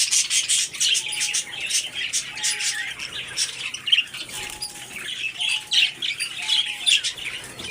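Lovebirds chirp at the Lalukhet Sunday bird market in Karachi, giving busy overlapping high tweets and squawks with short whistled calls, fairly close and continuous.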